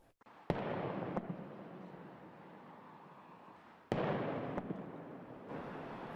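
Several sharp booming explosions near a storage facility ring out over a constant loud roar of rushing noise, with a pair early on and another cluster about halfway through.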